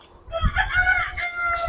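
Backyard chickens, game fowl, cluck while a rooster crows nearby, a brief layered call rising in the middle and then trailing into more clucking, with no talking.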